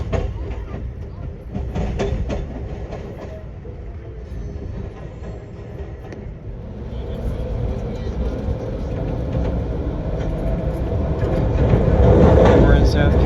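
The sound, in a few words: passenger train riding on tracks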